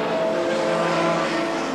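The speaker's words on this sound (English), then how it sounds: "So it's front-wheel drive Vauxhall versus rear-wheel drive BMW." Front-wheel-drive Vauxhall and rear-wheel-drive BMW touring cars race at a 1990 British Touring Car Championship round, their engines a continuous, fairly loud roar for a couple of seconds.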